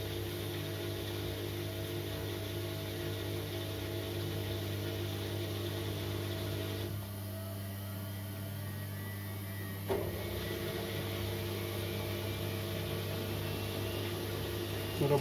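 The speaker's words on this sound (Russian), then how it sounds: "Ждем, когда машинку прибавит немножко скорость по отжиму" A Korting KWM 47B1060 washing machine on its spin cycle gives off a steady mechanical hum with a constant whine, dipping briefly partway through and then resuming as it picks up speed.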